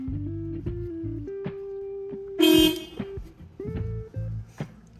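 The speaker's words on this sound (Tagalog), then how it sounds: "Pindot ko yung busina." One loud, brief car horn honk, pressed during a DIY car gauge repair, stands out amid clicks, clunks and low hums of handling nearby.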